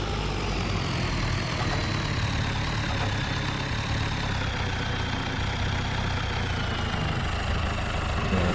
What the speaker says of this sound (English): And it's time to put this tractor to rest for today.